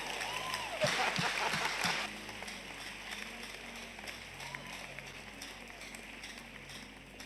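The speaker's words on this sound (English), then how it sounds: "Clap well, whether you have been doing it or not." Church congregation clapping during a Sunday service, a loud burst of rapid applause in the opening two seconds over crowd noise, then easing into a steady background murmur.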